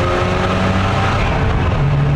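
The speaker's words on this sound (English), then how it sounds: "So this is the last great rotary engine." A loud, close rotary engine in a sports car droning at high revs, its pitch dipping slightly before settling at a steady buzzing tone.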